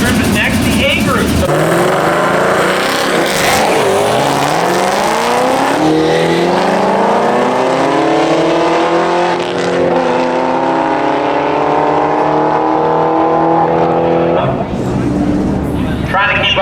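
Race cars at Sick Week launching down a drag strip, loud engines roaring and revving through rising gear pulls, a long sustained howl that fades then surges again, with people talking over it.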